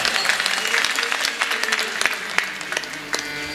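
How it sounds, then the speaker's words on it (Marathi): Audience at a kirtan performance claps in a burst of applause, many hands close and dense, with a voice heard over the clapping. "आमच्या माऊली साऊंड सिस्टमसाठी एकदा टाळी वाजवायची."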